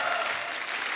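A studio audience on a comedy talk show applauds as actors Saurabh Shukla and Supriya Shukla are welcomed, a dense, loud burst of clapping for about a second.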